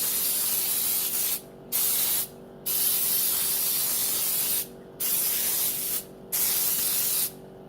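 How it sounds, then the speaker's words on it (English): Baker's Joy baking spray hissing into a cake pan in long bursts, five or six sprays separated by short pauses, close and steady. "make sure you spray it good"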